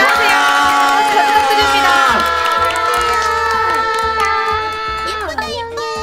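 A lively crowd cheering and shouting with scattered clapping throughout, welcoming someone back, while a person speaks briefly over the noise.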